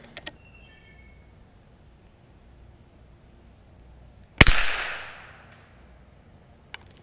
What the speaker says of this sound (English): I'm going to shoot for that dot in the top left.